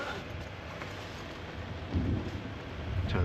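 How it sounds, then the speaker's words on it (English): Steady rain hissing on a rooftop tent at a lakeside campsite across the whole clip, with a low rumble of thunder swelling near the end. "I can hear the rain starting."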